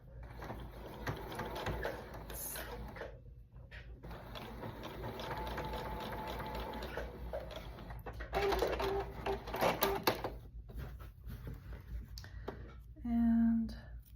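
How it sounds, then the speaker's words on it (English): A home sewing machine runs a straight stitch on fabric for underwear, close and faint, in short mechanical bursts with pauses between, while a person talks over parts of it. "So I'm gonna go back to a straight stitch, and I'm just gonna sew that in."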